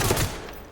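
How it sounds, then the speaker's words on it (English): Gunfire in the tactical shooter Ready or Not, a brief burst of loud dense shots that quickly trails off into a muffled echo. "shots you're hearing in the background"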